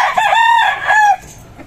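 An imported yellow-leg hatch gamefowl rooster crows once, loud and close, a single drawn-out two-part call that cuts off cleanly.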